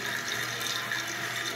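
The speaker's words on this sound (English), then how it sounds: "This is how the fill valve works." A 1989 American Standard Cadet toilet tank fill valve refills with water, a steady close hiss and rush of flowing water with a faint mechanical undertone.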